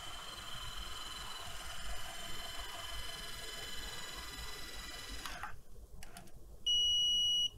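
During setup an Aqara curtain robot starts its auto-calibration with a steady electronic whine, which cuts off. A single sustained, fairly loud beep then sounds alone near the end, with no speech.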